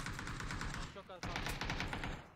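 Rapid bursts of automatic gunfire in a battle royale video game, loud and continuous across the moment, with a brief dip midway and an excited voice talking over the shots.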